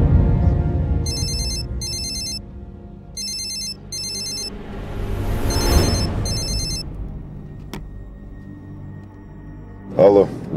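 A telephone rings in repeated electronic bursts, loud and close, under a dramatic musical score in an Armenian TV drama, followed by a brief swell and a short voice near the end.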